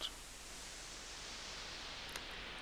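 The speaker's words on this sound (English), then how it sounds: "So a bit of white noise." A modular synthesizer puts out a steady, even wash of white noise, soft and continuous, with one brief click partway through.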